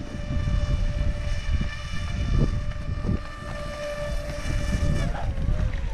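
Small RC floatplane taxiing back across a lake at Northstowe, a thin buzzing electric motor whine holding steady pitch and rising slightly near the end, with wind and voices talking over it.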